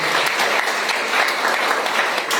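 Church congregation at an Easter service applauding, dense, sustained clapping from many hands filling the space evenly without pause.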